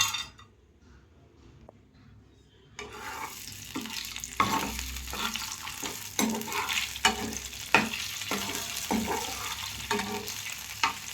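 Dry fruits frying in ghee in a pan, quiet at first, then a close sizzle starts with repeated scraping and clinking stirs over it, and no one speaks.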